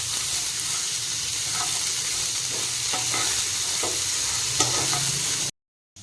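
Spiny gourd (kankada) and potato pieces frying in oil in a pan, a loud continuous sizzle with faint intermittent stirring clicks, close and without talk, ending abruptly in silence.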